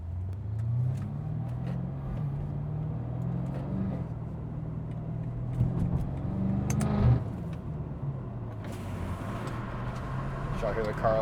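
A sports car engine drones steadily close by, swelling briefly as it revs before settling back into a constant rumble.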